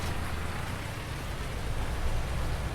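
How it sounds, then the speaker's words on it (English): Steady rain pours down in Farming Simulator 19, a dense, even hiss that holds at the same level throughout with no voices over it. "And to get the rain now, it's kind of annoying."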